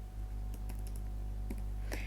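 Typing on a computer keyboard: scattered light clicks and taps of keys, fairly faint and close, over a steady low hum with no talking.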